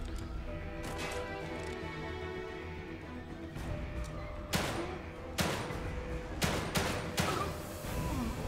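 Handgun fire in The Evil Within, played as Kidman: a handful of sharp, separate shots spaced a second or so apart over a low, murky game ambience, fairly quiet overall.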